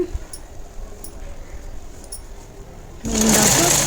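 A sewing machine stitches the front part of a plain blouse, a soft running whir with faint ticks, then a louder, brighter burst of stitching near the end.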